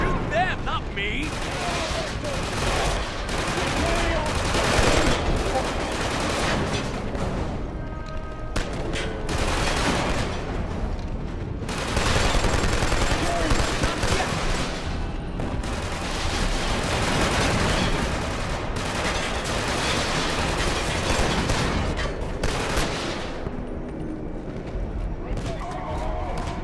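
Dense video game gunfire on a PS3 rattles almost without pause in heavy bursts and fusillades, loud and close, with voices shouting over the shooting.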